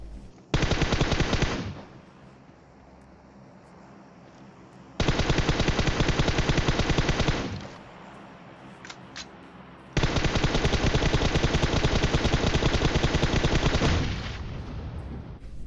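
Long bursts of rapid automatic gunfire from a PUBG Mobile battle, three loud sustained volleys separated by short lulls with a couple of single shots in between, close and harsh, with no talking.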